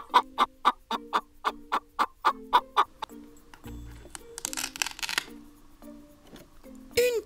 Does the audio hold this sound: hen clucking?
yes